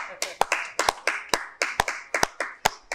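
A few people clap in a steady, uneven rhythm during a Father's Day radio broadcast, with sharp, close, dry hand claps repeating about three times a second, sparse rather than a crowd.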